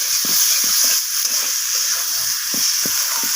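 Fried potatoes cooking with spices in a pan, giving off a steady hiss of frying oil broken by short scraping taps from stirring.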